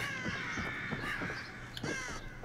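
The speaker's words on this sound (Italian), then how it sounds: "Senti i corvi." Crows caw repeatedly in the horror video game The Evil Within, a cluster of harsh, overlapping calls at moderate distance with no talking.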